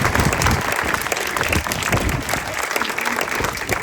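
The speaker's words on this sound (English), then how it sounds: "a massive round of applause to" Sustained applause from a crowd at an opening celebration for a 1950s cinema and shops at Beamish, steady dense clapping throughout with no pause.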